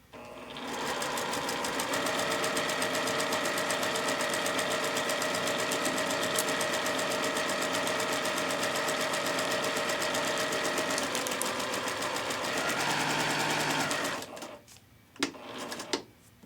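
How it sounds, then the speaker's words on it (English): An electric sewing machine with an open toe foot stitches along dotted lines on half square triangle paper, running one steady, continuous burst for about thirteen seconds, close and fairly loud, then stopping with a few small clicks. "you're going to stitch directly on the dotted lines"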